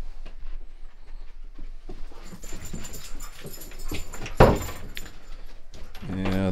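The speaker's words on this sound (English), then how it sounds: "Come on, dogs." Several dogs move about an indoor storage area, with soft shuffling footsteps, clicks and light panting throughout, a sharp thump midway and brief talk near the end.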